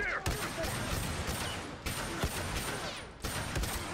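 Bursts of gunfire from The Last of Us online multiplayer, a Supply Raid match on the Coal Mine map, with three sharp shot onsets spaced a second or two apart over a busy, mid-level bed of game noise.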